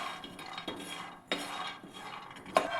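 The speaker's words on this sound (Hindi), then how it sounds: "अब इसमें थोड़े से कसी मूंगफली डाल देंगे और इसे भी हमें सलाते हुए भून लेना है" Grated peanuts are stirred and roasted in a pan, a quiet soft scraping and rustle punctuated by three light metallic clinks of the spoon against the pan, close by.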